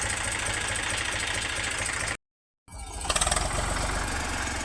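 A tractor engine idles steadily in a farm field, a continuous low mechanical drone that cuts out briefly mid-clip before resuming with a short rougher burst.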